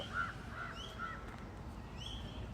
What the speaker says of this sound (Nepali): चराहरूको चिरबिर आवाज